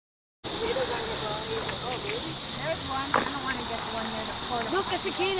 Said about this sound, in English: Look at those 2 big cicadas.